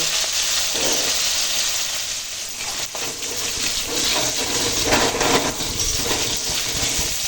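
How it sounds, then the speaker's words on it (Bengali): Katla fish frying in hot oil in a home kitchen, a continuous loud sizzle with crackling spatter throughout, close and alone. "মাছ ভাজা হয়ে গেছে, তুলে নেব।"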